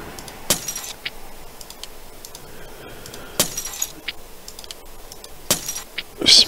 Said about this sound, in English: Smashing orbs on his floor.